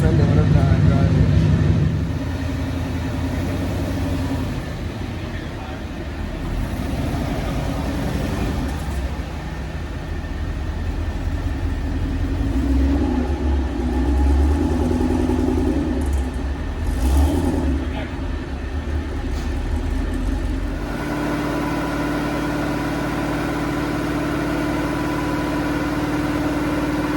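A Ford Mustang V8 engine, one of a 7.3L and a 5.0L, runs close by with a steady loud idle and some swelling revs, while people talk over it throughout.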